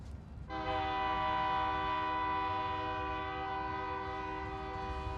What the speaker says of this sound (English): A passing train, their wake-up call.